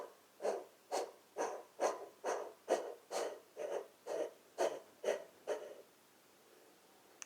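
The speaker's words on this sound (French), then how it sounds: "Et ça va faire un petit bruit un peu comme si" Rapid, forceful exhalations in a guided breathing exercise: about a dozen sharp, evenly spaced breath bursts close to the mic, then the rhythm stops and quiet follows.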